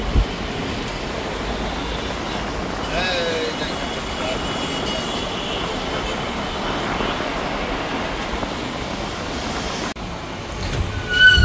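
Busy Dhaka street traffic, with trains, buses, auto-rickshaws and CNGs, makes a loud, continuous rumble of engines and rolling wheels, with a brief air-brake-like hiss and passing vehicles rising and fading, and voices heard faintly in the mix.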